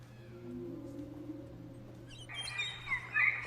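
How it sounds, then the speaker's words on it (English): A sped-up whale recording turns into high, bird-like chirps and squeaks. Soft low tones come first, then a cluster of bright, quick calls breaks out partway through, alone and fairly faint. "If I take a whale and we speed the whale up,"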